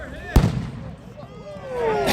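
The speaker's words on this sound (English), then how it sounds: "This is a firework." A firework bang at an outdoor softball tournament: one sharp loud crack near the start, then faint whistling and crackling trails fading over background murmur.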